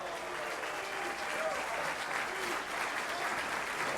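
Spectators at a men's intercollegiate bowling championship semifinal applaud in a sustained wash of clapping that holds steady throughout, with faint voices mixed into the crowd noise.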